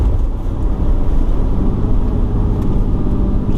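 A RAM heavy-duty pickup truck's exhaust brake gives a deep, loud, continuous rumbling roar, steady and close.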